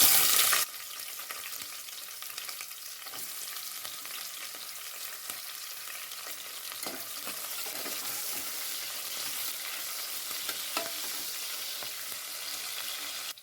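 Two large chopped onions fry in a pan for plain kuska, starting with a brief loud burst, then settling into a dense, even crackling sizzle with light stirring scrapes throughout.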